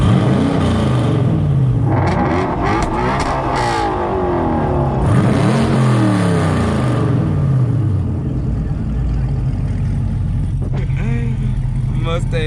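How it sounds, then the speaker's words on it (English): A Ford Mustang engine revs hard at a car photoshoot meet, rising and falling in repeated loud sweeps with other engines and voices mixed in around it. "Mustang trying to out-rev me."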